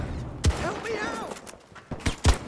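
Two sharp M24 sniper rifle shots crack in the shooter game Battlefield Portal, one early and a pair of close blasts near the end, with a player talking in between.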